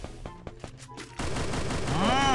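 Loud continuous automatic gunfire in the battle royale game Free Fire, which cuts in abruptly after a few sparse sharp pops and holds steady to the end.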